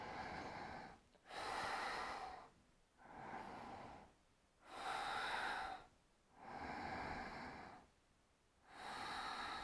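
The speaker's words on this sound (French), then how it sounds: "on va venir prendre 3 profondes respirations dans le cœur" Three slow, deep breaths taken during a yoga pose, each a long audible inhale and exhale, soft and close, evenly paced with brief pauses between them and no talking.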